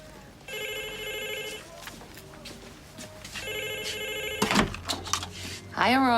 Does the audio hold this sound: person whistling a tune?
no